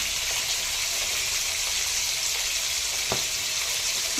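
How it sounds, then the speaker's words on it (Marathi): Fish sizzle steadily in hot oil in a pan, a dense continuous frying hiss, close and even, with a faint clink near the end. "मस्त आणि बढिया मासे बनलेले आहेत बघा तेलात सोडलेले आहेत"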